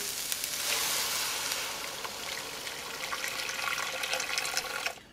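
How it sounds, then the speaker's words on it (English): Hot water pours steadily into a cooking pot for albóndigas, making a continuous, loud rushing splash that holds for several seconds before cutting off abruptly. "I'm adding hot water and this is gonna cook my albondigas a lot faster."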